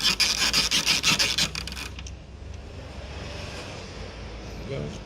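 A tail lamp cover on a SEAT Leon Mk3 being prised off by hand, a quick series of rapid plastic rasping scrapes up close, followed by quieter rustling handling.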